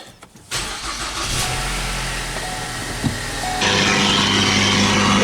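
A Ford Escape engine cranks and catches, then settles into a steady idle and revs up slightly louder near the end.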